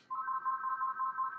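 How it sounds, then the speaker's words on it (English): A phone rings with a steady electronic two-tone warble that holds at a constant level and stays close and clear throughout, with no talk over it. "shut up, phone"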